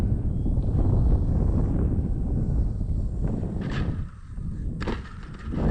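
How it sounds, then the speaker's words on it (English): Strong wind buffets the microphone in a continuous loud roar with gusty swells and brief dips, outdoors on a windy day at a model airplane flying session. "It's so windy."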